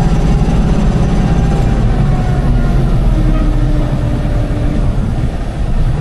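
A small tractor engine runs steadily close by, a continuous low rumble with a faint tonal hum that holds even throughout, no talk over it.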